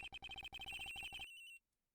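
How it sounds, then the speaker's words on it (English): A phone ringing in the Ace Attorney Investigations video game, a rapid electronic trill of bright repeated tones in quick bursts that stops abruptly after about a second and a half, clear and alone. "It sounds like the phone is up in the flight attendant's room."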